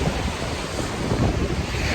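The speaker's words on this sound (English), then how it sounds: "it's very windy. Waves are huge." Waves wash on Lake Ontario under strong wind, giving a loud, continuous roar of surf with heavy wind buffeting on the microphone and no talking.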